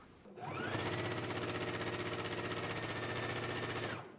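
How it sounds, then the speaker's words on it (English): A sewing machine stitches down the side of a jumpsuit sash in one steady run of about four seconds, its rapid even needle rhythm holding constant before stopping, with no talking. "Let's go ahead and sew it now."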